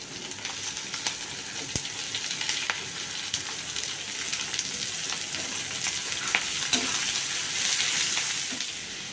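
Chopped vegetables frying in oil with mustard seeds and urad dal, giving a steady close sizzle with occasional pops and faint stirring clicks. The sizzle swells slightly toward the end, and no one talks.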